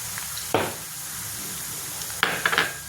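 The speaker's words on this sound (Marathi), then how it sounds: "याला सुद्धा आपल्या कांद्यामध्ये भाजवून घ्यायचा." Semolina roasting with onion in a pan, stirred, gives a constant close sizzle with two brief bursts of spoon scraping against the pan.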